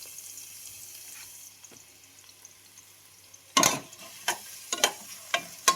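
Garlic, onion and ginger sautéing in a pan, a faint sizzle that turns into bursts of loud scraping and stirring clatter in the second half, close up and with no speech.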